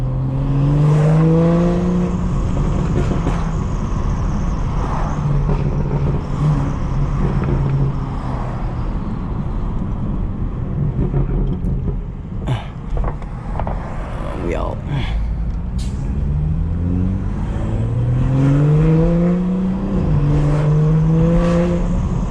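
A BMW 440i engine drives and accelerates, its rising and falling revs sweeping up through the gears under a loud, steady road roar, with someone talking over it.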